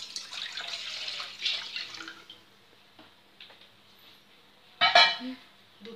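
Milk pours into a pan on a lit gas stove while Bengali kulfi is being made. A soft splashing hiss lasts about two seconds, then fades to quiet kitchen sounds, ending with a sharp clatter.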